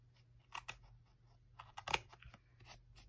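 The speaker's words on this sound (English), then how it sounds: "then we're gonna just trim the edge. and just trim it straight across" Scissors snip straight across the edge of a handmade Stampin' Up card, a few soft crisp cuts close by with a louder snap near the middle, no talking.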